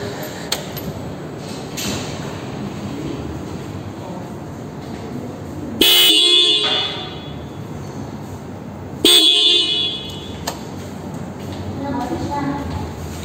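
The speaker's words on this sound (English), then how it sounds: "So that's the sound of the dual setup horn." The dual horn setup on a Yamaha R15 BS6 motorcycle sounds twice in loud, close blasts of about a second each, several seconds apart, at a showroom with background chatter and people talking.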